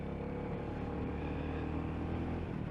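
Royal Enfield Classic 350 motorcycle exhaust while riding, a steady low thumping engine drone with harmonic rumble, loud and continuous throughout with no talk.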